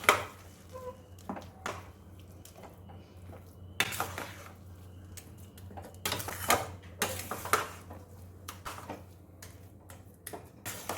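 A spoon stirs semolina with mango in a pan, making soft close scraping and clinking strokes at an irregular pace, with no talking.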